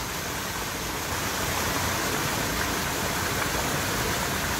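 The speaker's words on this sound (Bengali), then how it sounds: "মন্দির সংলগ্ন এই ঝর্ণাটি কি সুন্দর দেখুন।" Steady, dense rush of a waterfall beside a temple in Mirik, a constant broadband roar with no breaks or voices, close and fairly loud.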